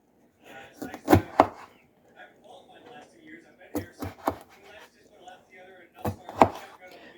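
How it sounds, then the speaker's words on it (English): A knife slices through limes on a cutting board, with several sharp chops arriving in quick pairs and clusters, close and crisp, between stretches of quiet talking. "First I'm gonna do is slice our limes."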